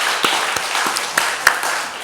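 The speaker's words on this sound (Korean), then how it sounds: "하나님께 영광의 박수 돌려드리겠습니다" A church congregation gives sparse applause in glory to God: scattered individual claps, a handful of sharp hits spread unevenly over a soft background hiss.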